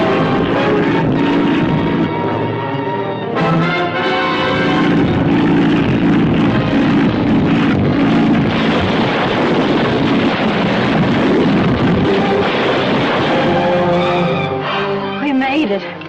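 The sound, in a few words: airplane making a forced landing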